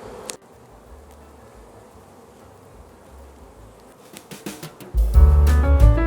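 Honey bees buzz around a queen cage on a hive removed from a porch, a low steady drone that swells into a loud close buzz near the end, with no talk.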